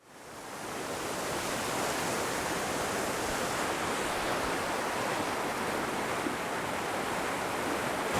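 Meltwater from Mount Hermon snow pours through the Dan spring at Tel Dan, a steady, loud, broadband rush of flowing water that holds constant throughout, with no voices.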